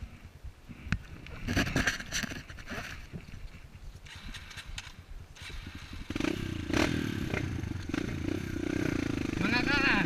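Enduro motocross motorcycle revving on an off-road trail in Bandung, Indonesia, its engine rising to a loud sustained roar in the second half, with clattering and voices mixed in earlier.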